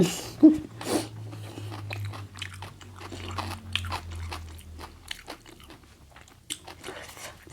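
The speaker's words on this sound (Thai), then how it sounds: "ตีนก็ต้องแทะเนาะพี่น้อง" Gnawing and chewing on chicken feet served in a canned-fish curry broth with fish balls: close, wet crunches and bites in irregular bursts, loudest near the start, continuing steadily with small smacks throughout.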